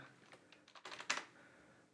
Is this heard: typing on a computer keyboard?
yes